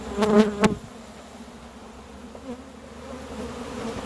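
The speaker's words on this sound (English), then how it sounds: "We have a lot of bees on our inner cover" Honey bees hum around an open hive in a low, steady drone, with a brief louder buzz near the start as insects pass close to the microphone.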